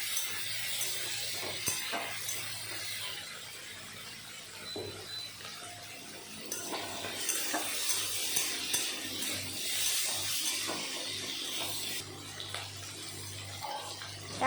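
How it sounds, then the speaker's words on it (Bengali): Prawns and cut potatoes are stir-fried in a pan in a home kitchen, a soft continuous sizzle broken by the scrape and knock of a spatula being stirred around. "এখন ভালো করে নেড়ে চেড়ে ভেজে নেব।"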